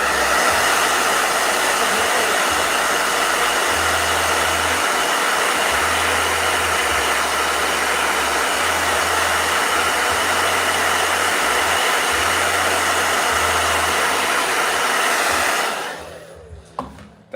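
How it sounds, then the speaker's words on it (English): Portable blow dryer running steadily at full power, a loud continuous whooshing hum with a low droning motor that holds for about fifteen seconds before switching off abruptly, followed by faint clicks. "we will let you know how the portable blow dryer works"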